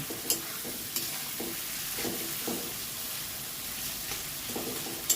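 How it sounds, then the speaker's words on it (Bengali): Chopped tomatoes and chicken masala sizzle in a pan for papaya chicken curry, with a soft continuous frying hiss broken by repeated scraping stirs and a few light clinks of the spatula, up close. "টমেটোটাকে দিয়ে ভালো করে নেড়ে চেড়ে কষিয়ে নেব"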